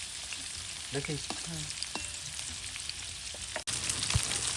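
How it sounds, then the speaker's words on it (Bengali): Tilapia fish sizzles and crackles in hot oil, a steady frying hiss with a few scraping stirs and a soft knock. "অনেক সুন্দর মাছ ভাজা হয়েছে"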